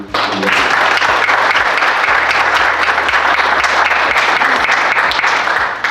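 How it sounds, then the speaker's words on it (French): An audience at a cryptocurrency launch and business summit in Dubai claps loudly and continuously, a thick wall of applause with a low, pulsing musical bass underneath throughout. "d'applaudir très fort pour toutes les énergies que vous avez mises"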